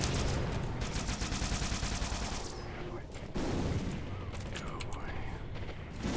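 Rapid automatic gunfire from Halo: The Master Chief Collection, a dense, loud, continuous stream of shots that breaks off briefly midway, then resumes with more scattered firing.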